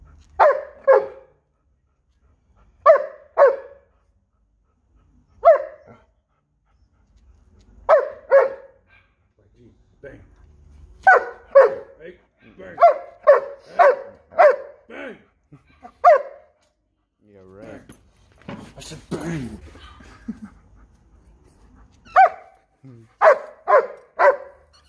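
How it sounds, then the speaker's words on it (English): A German Shepherd barks repeatedly nearby in short bursts of one to three barks separated by pauses, with a brief scuffle of noise midway. "He just barks like that at your house?"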